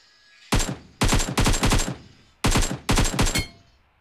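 M4 rifle gunfire in the battle royale game BGMI: several loud, close bursts of rapid automatic shots with short pauses between them, no voices.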